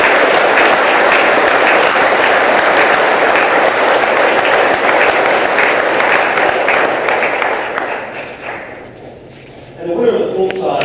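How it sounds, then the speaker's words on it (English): Audience applause at an Air National Guard awards ceremony honoring senior non-commissioned officers, loud sustained clapping from a large crowd that fades out near the end before a voice begins. "Please join me in a round of applause for all of our outstanding senior non-commissioned officers of the year."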